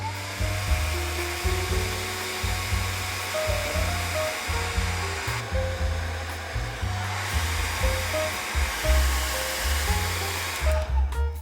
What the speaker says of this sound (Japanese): この状態になったらドライヤーで乾かします。